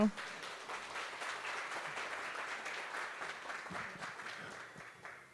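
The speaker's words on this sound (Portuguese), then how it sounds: "Salva de palmas, gente." Steady audience clapping at a cycle-tourism seminar in the Mantiqueira region, an even, continuous round of applause that fades slightly near the end.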